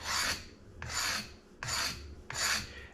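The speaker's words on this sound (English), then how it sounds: "I think what I'm going to do is just joint the edge here a little bit" A stained knife edge being jointed on a sharpening hone: four rhythmic, close rasping strokes of steel scraping across stone, each about half a second long, separated by short pauses.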